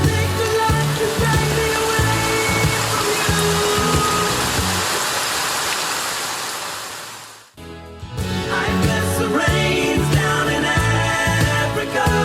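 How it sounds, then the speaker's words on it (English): Rain in a TV drama episode, a dense, loud wash of falling drops that pours steadily, then cuts out briefly and resumes with musical tones layered over it. "It's about to rain."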